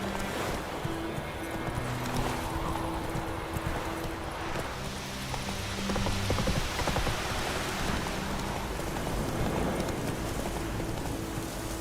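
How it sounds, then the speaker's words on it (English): Steady in-game rain from The Witcher 3: Wild Hunt pattering on surfaces, continuous and fairly loud throughout, with a faint low hum underneath and no talking. "It's raining, it's pouring"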